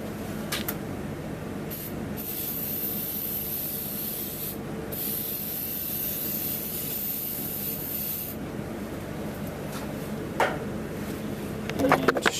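Aerosol lubricant sprayed inside the rear window channel of a 2001 Dodge Dakota Quad Cab door, a steady close hiss running nearly continuously with a few short breaks and light handling clicks.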